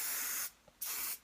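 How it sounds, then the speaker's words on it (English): Spray bottle fired in two long bursts of misting hiss, close and loud, with a short gap between them, used while shaping hair for more height. "And then with my spray, I'm going to come in"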